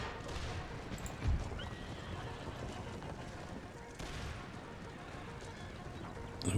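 Horses of horse archers in the video game Empire: Total War whinny and clip-clop across a busy battlefield, loud and continuous over a dense rumble of distant musket fire. Someone talks over it at times.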